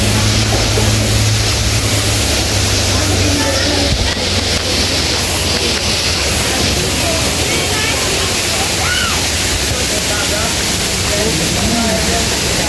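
Dayhag Falls in Boljoon, Cebu, a broad, steady rush of falling water filling the scene at close range, with voices talking over it and a low rumble underneath.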